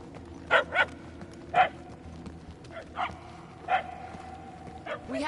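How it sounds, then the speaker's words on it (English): A dog barks in the Guardians of the Galaxy video game, giving a scattered series of sharp yaps and short barks at uneven intervals, medium distance and moderate loudness, over a low game ambience. "The barking is getting fainter."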